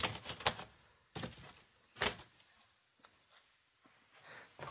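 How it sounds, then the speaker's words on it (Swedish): Tape is pulled and pressed onto a cardboard craft roof in a few sharp, crackly bursts with quiet pauses between, close and fairly loud, with no talking. "Så nu ska jag bara tejpa fast dem."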